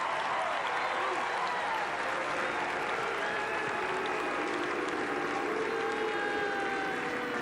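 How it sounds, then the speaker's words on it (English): Baseball crowd at a Cubs–Royals spring training game letting out a long, sustained drawn-out moo for Moustakas, a dense wash of many voices holding steady throughout. "They're not booing, they're mooing for Moustakas."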